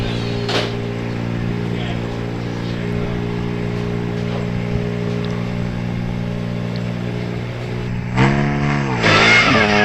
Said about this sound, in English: And away goes the Austin A40 then, car 195.